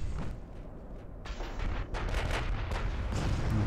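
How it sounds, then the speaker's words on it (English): Heavy 8-inch naval gun fire in a warship video game, a dense run of booming blasts and rumbling reports overlapping one another at steady loudness, with no talking. "You would think with all those 8-inch guns, something would happen."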